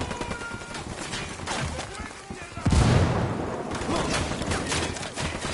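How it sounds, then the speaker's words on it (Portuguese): A grenade explodes in the Ghost Recon Wildlands shooter, a sudden loud blast at about 2.7 seconds that rises over steady gunfire and battle noise. Voices talk across the fighting. "Granada!"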